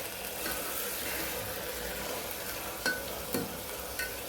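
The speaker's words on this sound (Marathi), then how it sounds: "हे छान हलवून घ्यायचे आपल्याला परत" Mung beans with onion and tomato are stirred in an oiled pan, a soft steady sizzle with scraping strokes and a few spoon knocks toward the end.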